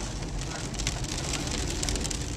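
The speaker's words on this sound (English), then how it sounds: "And it's raining." Steady hiss of rain falling on hard surfaces at rush hour, dense and continuous, with a low rumble of traffic underneath.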